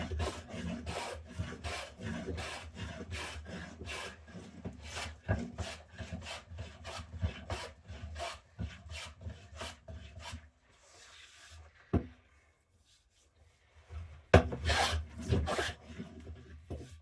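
Steady rhythmic scrubbing of wood on a workbench build, a long series of close rasping strokes, pausing briefly before a final few strokes resume.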